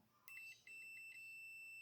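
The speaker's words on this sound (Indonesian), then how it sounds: "ada bunyi. Ini tanda bip" A multimeter continuity tester on a project board gives a steady high electronic beep when its red and black probe wires touch, sounding near and continuous with a brief dip partway through, with no talking.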